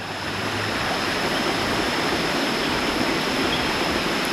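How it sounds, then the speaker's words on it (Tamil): A small river in Southern Thailand rushes steadily nearby, a loud, dense, unbroken wash of flowing water with no voices. "பாருங்க சின்னதாக ஆறு, இந்த ஆறு சத்தம்."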